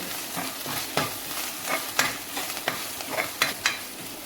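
Pounded ginger and green chilli paste sautéing in a pan, giving a soft sizzle broken by irregular stirring scrapes and utensil taps, close and fairly quiet.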